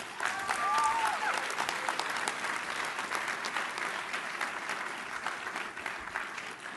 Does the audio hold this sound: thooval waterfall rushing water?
no